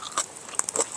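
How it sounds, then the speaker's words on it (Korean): Crunchy chewing of bean sprout rice cooked over low heat at a solo campsite, a few crisp bites and crackly crunches close to the mouth, quiet and without talk. "콩나물 엄청 아삭아삭하네."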